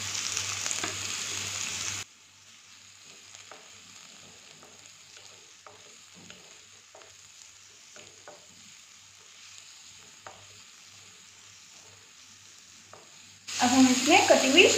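Chopped onions frying in oil in a pan for a stovetop veg pizza filling, a loud sizzle at the start, then a long quieter stretch of faint stirring clicks before the sizzle returns.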